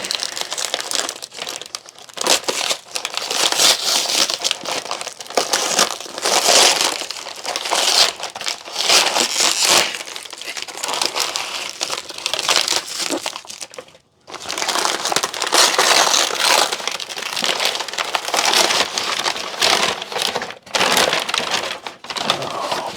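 Packing paper is crumpled and crinkled continuously nearby, a loud, dense rustling that runs almost unbroken, with one brief pause partway through.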